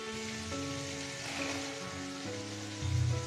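Chopped spring onions hit hot oil with cooked-down spices, giving a steady, close sizzle that holds through and swells briefly at the end, with no talk.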